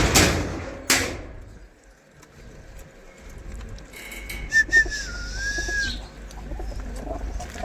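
Pigeons coo and whistle softly at their coop, with a couple of sharp door-like knocks early on and a rising bird call near the end, all fairly close and without talk.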